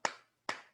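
Two sharp, close hand claps during a church sermon, evenly spaced about half a second apart, each crisp with a brief decay and near-silence between.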